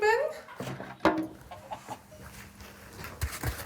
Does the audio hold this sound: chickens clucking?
yes